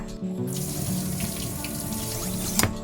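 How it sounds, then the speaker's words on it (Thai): Running water from a kitchen tap flows steadily and close by as a kitchen knife is dipped in it, with a brief splashy clatter near the end and no voices. "นำมีดไปจุ่มน้ำนะคะ"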